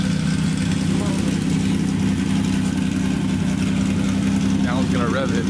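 A Datsun 280Z engine runs loud and close at a steady, rumbling idle without a clear rise in revs, with a brief voice faintly audible near the end.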